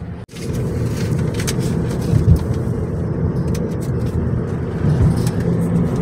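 Inside a car on a road trip down to Maryland, a steady road and engine drone runs throughout, with a brief thump near the start and no talking.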